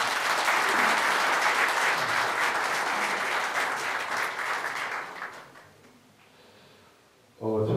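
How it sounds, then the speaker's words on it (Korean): Audience at a Jeonnam provincial party members' convention applauds in a dense, loud burst of clapping for about five seconds, then it thins and fades to near quiet before a voice starts at the end. "박수 한번 주십시오."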